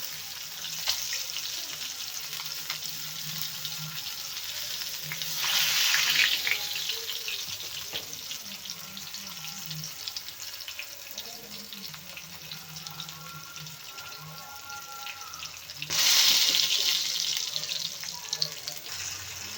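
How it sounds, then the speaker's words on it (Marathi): Bangda (mackerel) fish fillets frying in hot oil, a steady broadband hiss and crackle running throughout at moderate level, with brief louder bursts of sizzle as fish pieces are added or moved. "तर आता दुसऱ्या पण फिश मी टाकले आहेत फ्राय होण्यासाठी"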